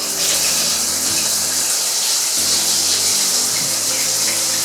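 Water gushes steadily from a shower valve, a loud, close, continuous hissing spray with a faint low hum beneath.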